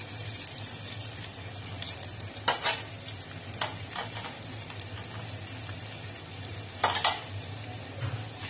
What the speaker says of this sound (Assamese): তেল গৰম হৈ গৈছে আমাৰ। এতিয়া মই ইয়াতে অকণমান আদা ৰচুনৰ পেষ্ট